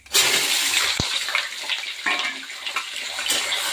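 Cut potatoes and eggplant tipped into hot oil with frying chillies, a sharp sizzling hiss that rises suddenly and keeps crackling steadily and close, with no talk.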